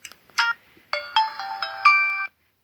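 A Nokia C2-00 mobile phone plays a short electronic ringtone melody: a few quick bright tones, then a run of sustained notes, close and clear against silence.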